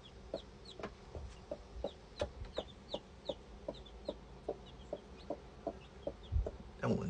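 Chickens on a backyard garden farm clucking in a steady run of short, evenly spaced clucks, fairly close and moderate in volume, with no talk.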